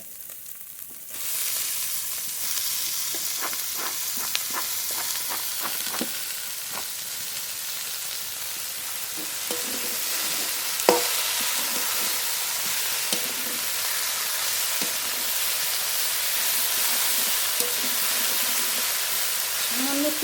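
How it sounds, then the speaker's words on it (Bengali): Red amaranth leaves drop into a pan of cooked-down spices and burst into a loud, sudden sizzle, then fry steadily with intermittent scraping and clinks of stirring. "মশলাটা কষানো হয়ে গেছে এবার লাল শাক দিয়ে দেবো"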